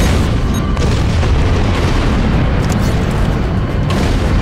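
Bombing explosions from Star Trek Online's First Contact Day event rumble as a dense, continuous barrage, loud and close, with deep booms blending into one steady roar throughout.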